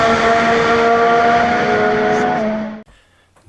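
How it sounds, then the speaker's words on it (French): Formula 1 race car engines roar at the Canadian Grand Prix on the Circuit Gilles Villeneuve, a loud sustained high-pitched howl that holds steady and then cuts off abruptly, leaving near silence. "démarrez vos moteurs, c'est un départ!"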